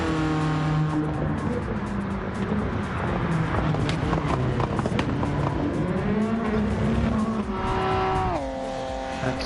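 Race car in a GTCA Championship Series race powering down the back straight, a loud continuous engine drone with rising and falling gear pitches and a shift near the end, close and dominant.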